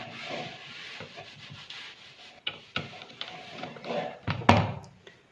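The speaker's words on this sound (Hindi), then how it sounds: "अब इसके ऊपर प्रेस चलाएंगे इस तरह से, और इसको पूरा पेस्ट कर देंगे फैब्रिक पर।" A pressing iron slides over fabric to fuse interfacing, producing soft rubbing swishes and scuffs with a few light thumps and clunks as it is moved and set down, close and fairly quiet.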